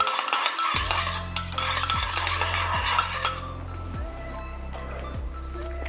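A spoon stirs spirulina powder mask mixture in a bowl, giving repeated light clinks and scraping over a steady tonal background.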